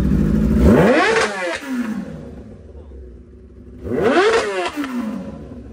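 A motorcycle fitted with an Austin Racing exhaust system, in a Chennai motorcycle shop, revs loudly in two close bursts. Each burst rises sharply in pitch and then falls away, separated by a brief, quieter idle.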